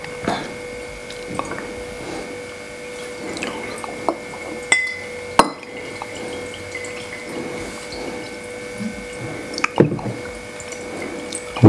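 Liquid drips and trickles through a filter in a quiet room, with irregular soft drops and small splashes and the odd light clink of glassware nearby.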